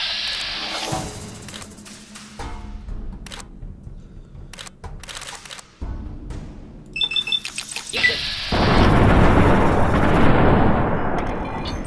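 Turrets firing in Fallout: New Vegas, a chain of sharp repeated shots and mechanical clatter that swells into a dense, loud barrage toward the end.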